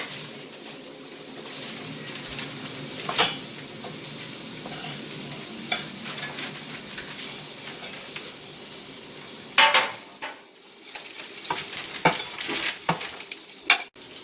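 Corn for crab cakes sizzles steadily in a hot pan, a continuous frying hiss broken by a few scraping stirs and spoon knocks near the end, close by with no voices.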